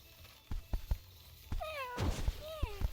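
Cartoon cats meow several times in the Bongo Cat video game, short rising and falling mews over soft thumps and taps, with a voice faintly present.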